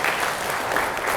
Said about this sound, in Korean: 이게 박수 한번 쳐주세요. 박수.